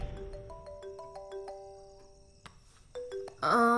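A mobile phone ringtone plays as a sequence of bright, evenly spaced electronic tones, pausing, then returning louder near the end with a sudden chiming burst. No one speaks.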